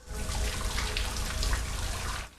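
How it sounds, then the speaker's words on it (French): Shower water runs in a steady, close hiss in a scene from the horror film See No Evil, starting abruptly and cutting off sharply after about two seconds, with no voices. "Prends pas ta douche là-dedans!"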